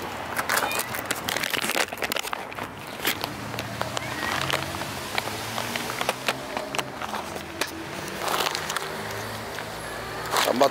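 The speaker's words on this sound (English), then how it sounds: "I'm about to feed these cats real quick." Hungry cats meow repeatedly at close range before feeding, scattered cries over handling noise and footsteps, while someone talks over them.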